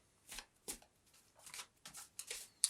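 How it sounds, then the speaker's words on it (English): Tarot cards are shuffled in a handful of quick riffled bursts, close and crisp, with short pauses between them. "Let's dive in by shuffling the cards."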